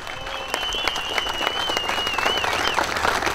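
Steady applause rises from a ceremony audience at the Pyrocar 2023 opening, a dense, moderately distant wash of clapping with a faint whistle-like tone riding above it.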